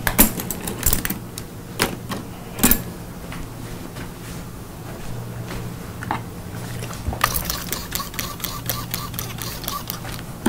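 Thinning scissors cutting hair during a mohican cut in a hairdressing class, giving crisp irregular snips and clicks close to the ear over a steady low background hum.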